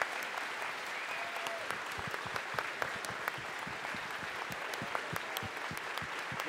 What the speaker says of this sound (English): And a round of applause for Tom Friedman.